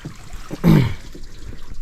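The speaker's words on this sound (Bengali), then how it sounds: "এই জাল ধোয়া চলতেছে।" Fishing net being rinsed in river water after a catch, a brief splashing gurgle and trickle that swells for about half a second then fades into a soft steady water background.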